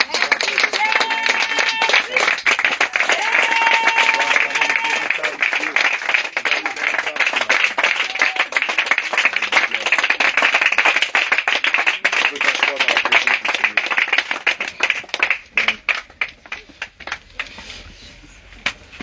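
A congregation at a morning prayer service claps loudly and steadily in acclaim of Jesus, dense rapid applause mixed with voices and shouts, thinning into scattered claps near the end.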